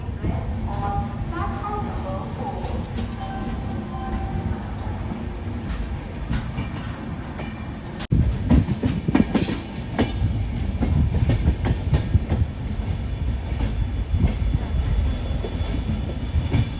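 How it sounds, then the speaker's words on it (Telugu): An express train on the Dharmavaram–Machilipatnam run pulls into platform 1 at Guntur Junction, a steady rumble of rolling wagons and wheel clatter that swells louder after a sharp jolt midway, with voices murmuring faintly beneath. "మన ట్రైన్ వచ్చేసి గుంటూరు జంక్షన్లో ప్లాట్ఫామ్ 1కి అయితే వచ్చింది"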